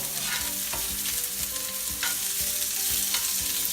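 Two diced medium onions frying in hot oil for smothered pork chops, a dense, loud sizzle with rhythmic spoon scrapes and stirs over the whole stretch, close up and with no voices.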